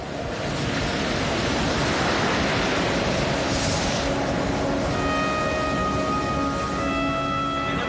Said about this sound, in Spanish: El fuerte oleaje dificulta la navegación.